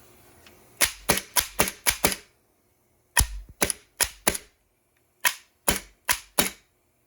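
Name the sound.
3D-printed semi-automatic HPA Nerf blaster firing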